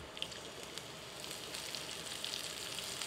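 Bacon and white parts of green onion fry in a pan of bacon fat, a continuous soft crackling sizzle with scattered pops, fairly quiet and even throughout; no one speaks.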